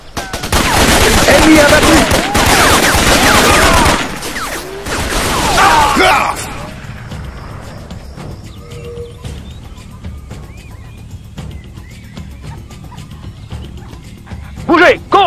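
Gunfire from Raven Squad: Operation Hidden Dagger in a jungle firefight, dense loud bursts for the first six seconds, then a quieter stretch with scattered faint shots and a brief burst at the end, with a voice speaking over it.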